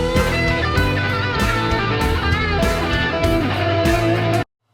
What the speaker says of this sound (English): To remind ourselves, the lick sounds like this.